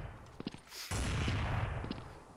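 Sniper rifle gunfire in a shooting video game: a couple of sharp reports, then a loud, sustained blast and rumble that fades slowly.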